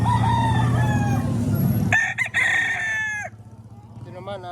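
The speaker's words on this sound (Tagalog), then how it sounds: "Ito manok oh." A fighting-breed rooster at a market in Padre Garcia, Batangas crows loudly and close, with a long harmonic crow, and other fowl and faint background voices are heard around it.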